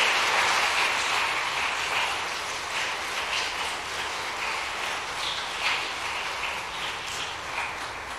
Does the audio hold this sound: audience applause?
yes